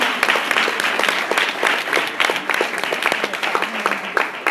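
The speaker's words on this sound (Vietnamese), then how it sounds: "Hãy cho họ một tràng pháo tay nè." An audience at a business briefing event applauding, a dense, steady wash of many hands clapping, loud and close, sustained for several seconds without pause.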